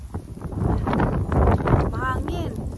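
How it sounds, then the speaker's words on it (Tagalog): Strong wind buffets the microphone during an ice storm with freezing rain in Texas, a steady loud broadband rush with gusty swells, while people talk over it. "Mahangin."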